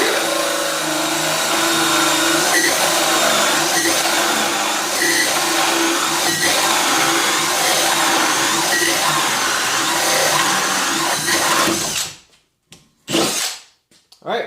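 Milwaukee M18 FUEL ONE-KEY 2706-20 hammer drill running a hole cutter limited to 1850 RPM, giving a loud, close, continuous grinding whir for about twelve seconds before stopping, followed by a few short bursts.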